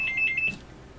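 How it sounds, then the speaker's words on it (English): A phone rings indoors, a short run of about five quick electronic trills, fairly faint, followed by quiet room tone. "Who didn't turn off their phone?"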